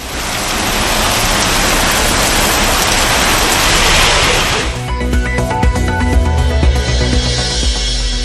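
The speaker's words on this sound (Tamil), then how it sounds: "சூறை காற்றுடன் பலத்த மழை" Heavy rain lashed by strong wind around Kavundampalayam, Thadagam and Kanuvai makes a dense, steady roar for about five seconds before a tonal music-like sound takes over.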